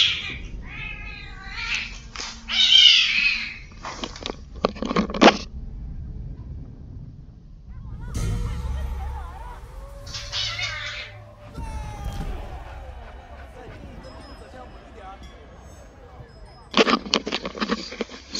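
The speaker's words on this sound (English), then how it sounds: "my cat is also at war with each other" A house cat meows and caterwauls in several loud, drawn-out wailing bursts separated by quieter gaps, with someone talking and some background game sound between the cries.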